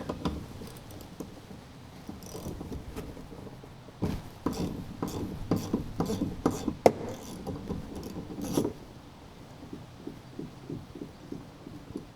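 A ratchet works on 15 mm nuts at the cowl of a Jeep Gladiator, giving bursts of rapid clicking between quieter pauses, close and moderately loud.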